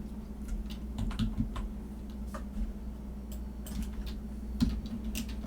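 Typing on a computer keyboard during a spreadsheet exercise, irregular close clicks and taps of keys with a few louder strokes, no voices.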